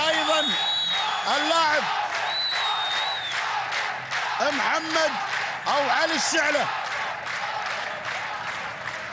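Al-Khaleej football fans in a stadium crowd cheer and applaud after their team scores a goal, a steady roaring mass of noise beneath an excited commentator talking over it.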